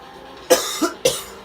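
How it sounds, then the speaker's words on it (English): Three short, rough throat-clearing bursts come close together, near and fairly loud, with quiet in between. "that one was for me trying to clear my throat"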